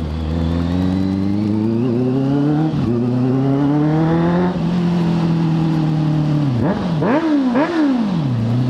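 Honda CB650F motorcycle with a full 4-into-1 exhaust, engine held loud and close at steady revs, then blipped in several sharp rising and falling revs.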